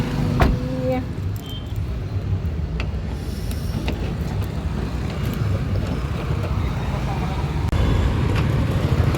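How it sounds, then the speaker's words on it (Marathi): Busy road traffic rumbles as a dense, continuous roar of passing vehicles, loud and close, with voices murmuring faintly under the engine noise. "बापरे किती हे ट्रॅफिक"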